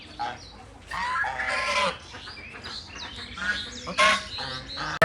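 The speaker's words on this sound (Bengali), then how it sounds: "পিছনে যে যে তিতিরগুলো ঘাস খাচ্ছে খোলা জায়গায় দেখতে ভালোই লাগছে" Guineafowl in an open farm yard, giving repeated harsh, scratchy calls in uneven bursts, fairly close and moderately loud, with a short loud hit at the end.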